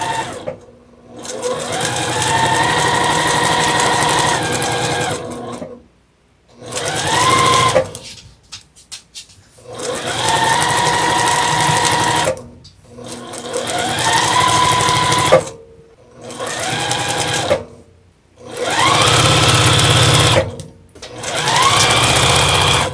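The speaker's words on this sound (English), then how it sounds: "I'm going to give it a start and give it a back stitch right there. And then I'm just going to sew it all the way down." Sewing machine stitching half square triangle quilt blocks for a Fourth of July quilt top, running in loud, close bursts of a few seconds each with steady whirring motor and needle chatter, separated by short pauses.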